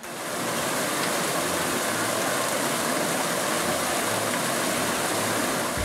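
A cool mountain valley stream beside the Suraksan hiking trail rushes and splashes steadily, a loud, continuous broadband wash of water that is close and constant, with no voices.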